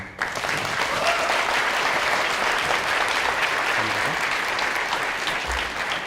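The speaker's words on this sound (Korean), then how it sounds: "여러분들도 함께 해주실 수 있는 용기가 있다면 박수 한번 주세요." A seated audience at a youth festival talk in Seoul claps in steady, dense applause that fills the whole stretch, loud and sustained.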